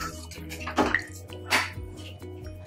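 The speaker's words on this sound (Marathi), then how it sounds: "आपण पाणी घालून घेऊया" Water splashes into a pan of brinjal and potato curry in two quick pours, with a low hum of a stove or fan in the background.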